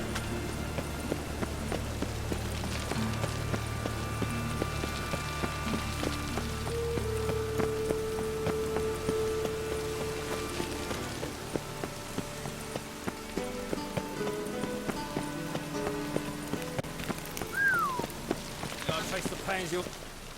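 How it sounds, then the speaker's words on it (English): Heavy rain falls steadily in The Witcher 3, a dense continuous patter under game music and ambient tones throughout. "It's raining buckets."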